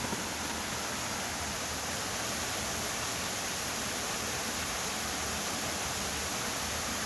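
Water crashes continuously at Burong Falls in San Jose del Monte, Bulacan, a dense steady rushing roar with no breaks or voices.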